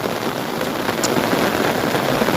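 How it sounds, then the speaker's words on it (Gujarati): Heavy monsoon rain pours down in the Gir region, a dense, loud, unbroken hiss of drops that holds steady throughout, with no talking. "વધે જ જાય છે આ વરસાદ"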